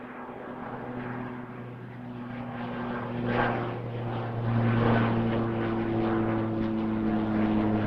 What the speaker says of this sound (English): And I missed the takeoff.